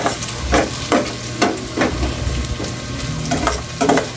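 Beef skin sizzling steadily in a hot pan, probably with ginger, for adobo with fermented black beans, while a utensil scrapes and stirs in regular strokes over the constant frying hiss.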